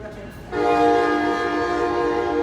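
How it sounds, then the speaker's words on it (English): A passing train sounds its horn, a loud sustained multi-tone blast cutting in abruptly after a half second of rumbling and holding steady and close throughout. "We have to wait for the trains occasionally."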